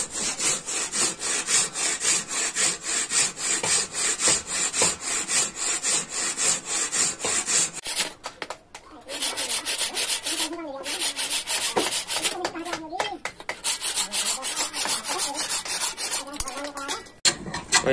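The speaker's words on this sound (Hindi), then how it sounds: "तब हम इस पर मारते हैं रंदा" Hand plane shaving a wooden handle for an adze: close, rhythmic rasping strokes of the blade across the wood in steady repetition, briefly pausing before the strokes resume.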